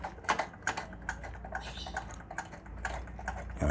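A motorcycle brake master cylinder lever is pumped repeatedly while bleeding and filling the brake line, giving quick, light clicking taps in an irregular rhythm, close and fairly quiet.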